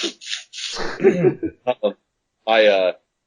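Close, loud throat clearing in a few rough bursts, followed by short sniffs, with pauses of silence between them.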